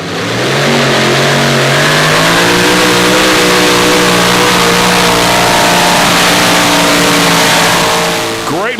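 A super modified pulling tractor roars at full power during a pull at Lucas Oil Speedway, with a loud, sustained engine drone whose pitch climbs steadily and holds, close and overwhelming throughout.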